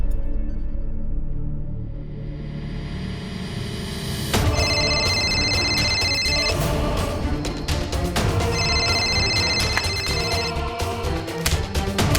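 A phone rings out during a call in a domestic drama, with two repeated bursts of electronic ringing tones standing over a continuous low musical background, no voices heard.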